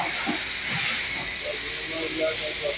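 Water hisses steadily as it cools hot, burnt wooden sticks after a terrace fire, a constant broad steam hiss with faint voices talking underneath.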